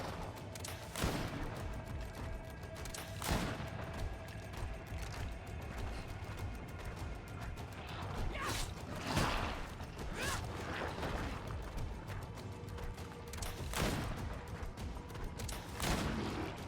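Gunfire in the GreedFall video game, a handful of sharp, widely spaced shots over quiet mechanical clicks and creaks, faint overall with each report standing out alone.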